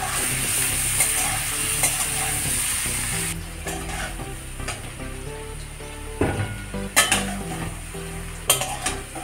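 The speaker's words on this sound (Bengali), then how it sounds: "এদিকে আমি লবণ হলুদ দিয়ে আলুটাকে ভেজে নেব।" Potatoes fry in oil with salt and turmeric in a pan, a steady close sizzle that runs throughout, broken by occasional scraping and clinks of a spatula stirring against metal; no one speaks.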